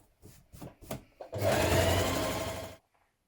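Sewing machine running a long straight stitch along the edge of a hoodie: a few short taps and bursts, then a steady loud whirring run of about a second and a half that stops abruptly.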